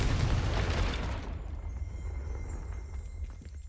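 A Confringo blasting spell from Hogwarts Legacy explodes with a loud, heavy boom that rolls for about a second, then dies into a low rumbling tail with faint debris crackles.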